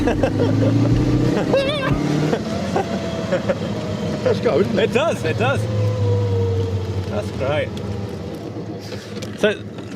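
The engine of a 1930 open-top vintage car drones loudly as it accelerates and rises in pitch, heard up close under wind noise while people talk and shout over it.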